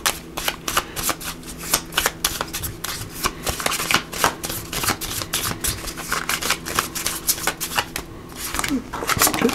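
Tarot cards are shuffled in quick, crisp riffling bursts, repeated many times close up, with faint low background hum.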